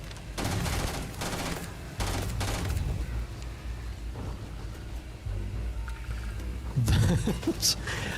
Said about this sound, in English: I like this gun quite a bit.